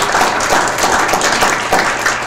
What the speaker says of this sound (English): Give Candy a round of applause